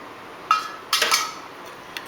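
A spoon clinks against a bowl while pepper powder and red chili powder masala are mixed, with three or four brief metallic taps spaced across a quiet background.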